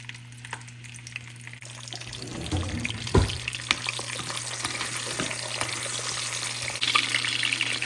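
A frozen dal puri drops into hot oil, which bursts into a loud, steady bubbling sizzle that swells after a soft splash and keeps crackling.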